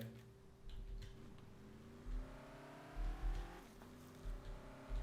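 A car engine in the video game Car Parking Multiplayer revs up and down in repeated surges, rising whine climbing in pitch over a steady motor hum, no talking.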